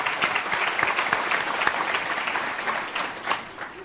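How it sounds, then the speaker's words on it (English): An award ceremony audience applauds a 2008 Entrepreneur of the Year honoree, a dense, steady wash of clapping lasting a few seconds and fading slightly toward the end. "Let's give Steve a round of applause."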